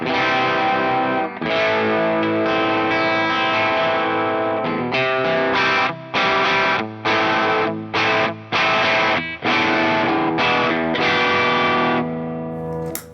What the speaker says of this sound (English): let's go for like a low gain tone with.